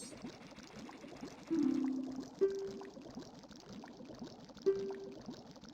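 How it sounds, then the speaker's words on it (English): Flowing stream of water running through a kitchen in the Majora's Mask video game, a soft continuous trickling pour with a few brief louder splashes, fairly quiet. "Why is there even a stream in the kitchen?"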